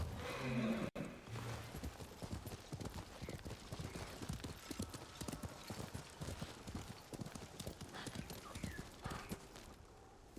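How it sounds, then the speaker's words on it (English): A horse in the video game Ghost of Tsushima gallops with rapid, steady hoofbeats and a brief whinny near the start, the clip-clop continuing loud and close throughout over faint game ambience. "That was an unnecessary jump by the horse there, but it looked very elegant"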